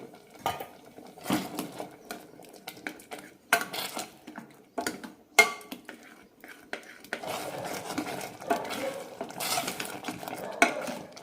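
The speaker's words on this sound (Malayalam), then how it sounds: "അഞ്ച് മിനിറ്റ് നന്നായി തിളപ്പിച്ചെടുക്കാം" Rice payasam with jaggery syrup bubbling in a pot while a spoon stirs and scrapes against the metal, giving irregular clinks and a steadier simmering texture in the later seconds, close and fairly loud.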